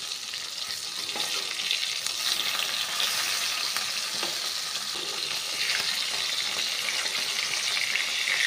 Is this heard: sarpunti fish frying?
yes